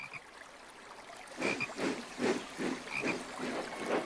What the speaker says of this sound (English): A beautiful green frog. Toby can hear it too.